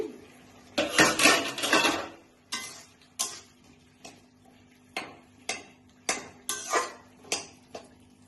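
A metal lid is lifted off a pot of simmering potato and papaya curry with a loud clatter, followed by a series of sharp clinks and taps of metal against the pot.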